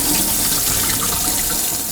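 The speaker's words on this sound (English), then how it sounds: "I'm going to pour that down the drain." Starchy water from rinsing sushi rice is poured into a sink drain, making a steady, loud, close rush of splashing water with no pauses and no voices.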